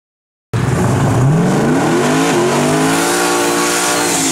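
A fast Pontiac Firebird on D.O.T. street tires roars past at speed, its engine note climbing sharply in pitch after an abrupt start and then holding a loud, sustained howl close by.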